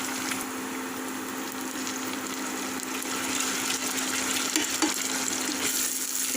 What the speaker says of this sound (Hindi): इसको 4-5 मिनट सौते करेंगे कि टमाटर जो है हमारे वो नरम पड़ जाएं